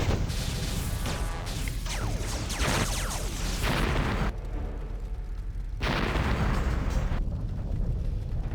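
A loud, sustained roaring blast from an explosion in the online game Anarchy Online, dense rumbling noise that cuts out briefly and returns, with no talk over it.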